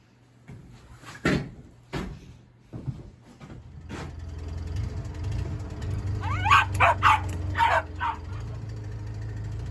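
A dog barks in several sharp bursts, with soft clunks and rustling early on and a low engine-like hum building underneath.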